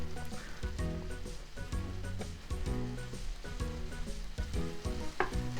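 A Japanese pork cutlet simmers in sauce in a pan for katsudon, a quiet, steady bubbling sizzle with small crackles and the occasional soft scrape of a spoon.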